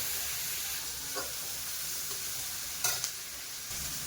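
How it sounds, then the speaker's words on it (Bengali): Onions salted in a pan fry with a dense, steady sizzle close by, broken by a few light scrapes of a stirring utensil. "পেঁয়াজ তো ভাজতে বেশি সময় লাগে সেজন্য পেঁয়াজের মধ্যে হাফ চামচ নুন দেবো"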